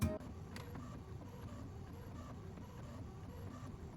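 A printer works on an ID badge image, giving a soft, steady mechanical whir that follows a brief click at the start and stays quiet and even throughout.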